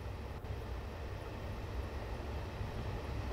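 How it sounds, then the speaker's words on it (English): A high-speed HST passenger train rolls past in Train Simulator 2018 on a Cross Country route, giving a steady, loud broadband rumble that holds evenly throughout with no voices. "We can see the train coming."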